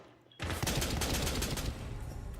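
Continuous rapid gunfire from a first-person shooter video game bursts in suddenly and keeps going, loud and dense with overlapping shots.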